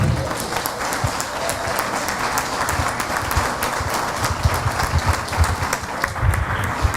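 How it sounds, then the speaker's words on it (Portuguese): A church congregation claps in praise during a service, a full, lively burst of applause with individual hand claps popping out of the steady wash. "E as palmas louvam o Senhor."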